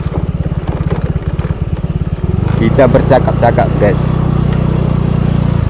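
A motorcycle engine idles close by with a rapid, even putt-putt pulse, then picks up into a louder, smoother drone as someone talks over it.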